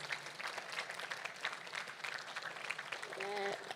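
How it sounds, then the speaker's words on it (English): A crowd of graduates applauds their parents at the Hillel Academy Grade 13 graduation ceremony, with dense, steady clapping that swells slightly toward the end and continues throughout. "So I'm going to ask you guys to clap your parents."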